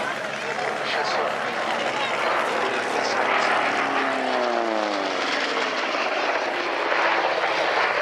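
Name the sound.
Curtiss 75 Hawk propeller aircraft flying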